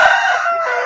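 A 14-month-old rooster of about 3 kg at a poultry farm gives one loud, close crow that holds steady for nearly a second before cutting off, with no other sound around it.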